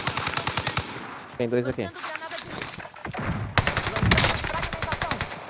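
Rapid automatic gunfire bursts from the WWII-era shooter Call of Duty Warzone Pacific, including shotgun fire, crackle in loud repeated volleys close up, while players talk excitedly over the shooting.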